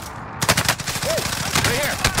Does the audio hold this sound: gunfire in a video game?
yes